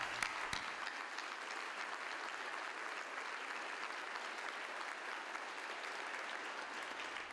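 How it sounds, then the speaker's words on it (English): A crowd claps at a hotel ribbon cutting ceremony for the Omni Nashville Hotel, a dense, even burst of applause sustained for several seconds, filling the space without a break. "Let's give them a round of applause."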